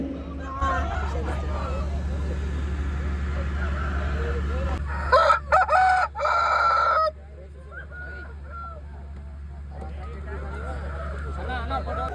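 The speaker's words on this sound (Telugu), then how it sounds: "ఇక్కడైతే పందానికి కావాల్సిన కోళ్ళు అవి అమ్ముతున్నారు" Fighting roosters crow and cluck amid a noisy crowd at a Sankranti cockfight ground in Bhimavaram, with a low constant hum underneath and a louder burst of crowing in the middle.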